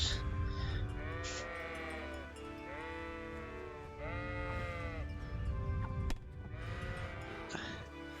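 A voice imitates a sheep, giving a run of wavering, drawn-out bleats close up that repeat for several seconds with short gaps between them.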